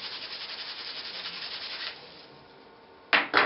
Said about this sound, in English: you need to clean off the fabric using a rag to remove the dirt and the grease that might be on it